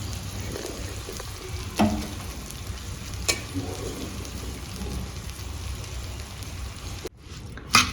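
Rice fries in a pan for masala rice, a soft, steady crackling hiss with a few light stirring knocks, cutting off briefly near the end.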